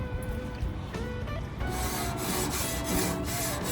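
A brush scrubs seasoned grill grates clean before cooking a tomahawk ribeye steak, a continuous close rasping and scraping with rhythmic strokes, with no talking.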